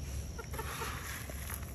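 Chickens cluck softly up close over a steady, noisy background hum, with a few short clucks scattered through the moment.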